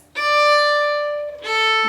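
A fiddle plays a short phrase from the Irish reel The Merry Blacksmith, with two clear, sustained bowed notes separated by a brief break, alone and close.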